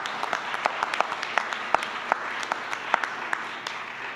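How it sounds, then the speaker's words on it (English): An audience applauds to thank parents at a state invention competition awards ceremony, steady clapping from a crowd with sharp individual claps standing out throughout. "I'd like you to give a round of applause and thank your parents"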